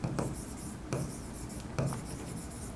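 Pen strokes on paper while filling in an accounting trial balance, quiet scratchy writing in three short bursts, close and soft.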